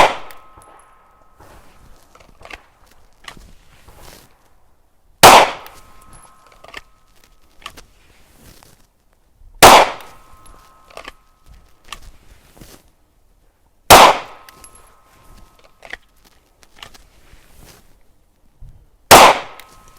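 Five loud, sharp pistol shots from a Smith & Wesson M&P compact 3.6 at an outdoor shooting range, spaced about four to five seconds apart with quiet gaps and faint clicks in between.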